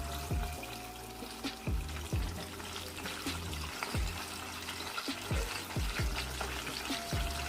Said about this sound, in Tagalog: Let's boil some oil and deep fry the sausage and bacon.